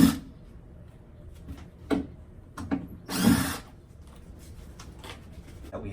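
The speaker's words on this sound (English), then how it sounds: "Get our handy dandy super drill here." Short bursts of a power drill whir on and off, with one longer, louder run near the middle amid quiet handling noises.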